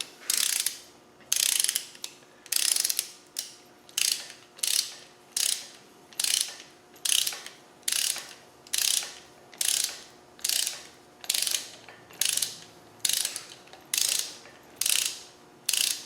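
A ratchet tightens cylinder head bolts on a Land Rover 300Tdi engine, sounding as a steady series of sharp clicking bursts, about one per second, close and clear with no talking.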